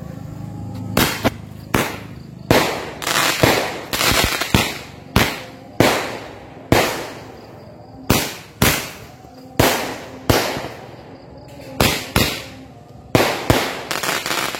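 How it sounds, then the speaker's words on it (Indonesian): Firecrackers go off outdoors at night in a long run of sharp, loud bangs at uneven intervals, some in quick clusters, with crackling between blasts. "ini bakalan kita nyalakan mercon yang bagus-bagus semua teman-teman"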